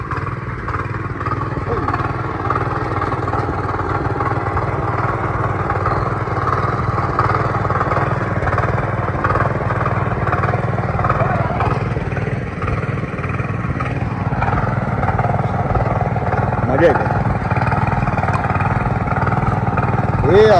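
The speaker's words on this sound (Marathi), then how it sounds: "ट्रॅक्टरला त्याच्या जागेवर ठेवायला चाललंय" A steady, rumbling tractor engine runs continuously throughout, chugging along nearby on a farm in Vengurla, Konkan, with faint background noise and no clear pauses.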